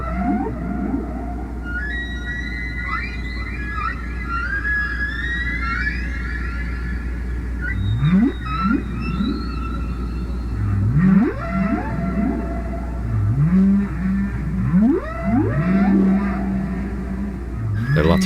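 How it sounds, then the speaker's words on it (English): A whale song recording plays: long sweeping moans and rising, swooping calls repeat over a constant low rumble, with tonal phrases layered through the passage. "There are lots of people who weep when they hear whale songs"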